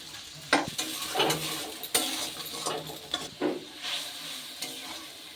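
A paste of ginger, tomato and green chilli sizzles softly in a pan while a utensil stirs and scrapes against it in irregular clinks, fairly quiet and without talk.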